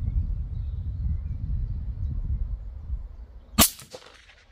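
A single sharp rifle shot fired at a target through a Pulsar C50 day and night scope cracks loudly out of a quiet, breezy outdoor background, followed by a brief fading echo.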